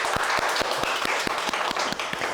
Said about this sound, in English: Can we just applaud that?